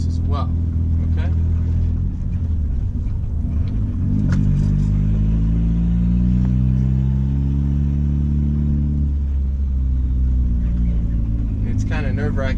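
A turbocharged Honda Accord CD5 engine drones steadily while driving on a salted road, a low continuous rumble with slight rises in pitch, sitting under someone talking throughout.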